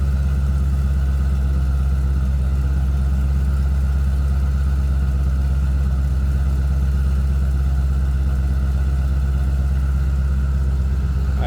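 Yellow 2012 Dodge Challenger SRT8 with a twin-turbo 1000 hp engine idling, heard from behind the car: a loud, deep, steady exhaust rumble with a rough pulsing throb, unchanging throughout.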